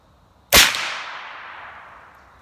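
A Savage Model 110 Wolverine rifle chambered in 450 Bushmaster fires a single sharp, loud shot that cracks suddenly and rings off in a long fading tail, with no voices.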